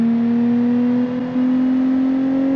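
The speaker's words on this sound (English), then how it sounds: "I'm gonna blow the engine up." A minivan engine in the BeamNG driving game holds a steady high rev, a loud sustained tonal drone with a brief dip midway, then climbing slightly in pitch, with no voices.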